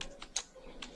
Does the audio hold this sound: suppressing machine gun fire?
no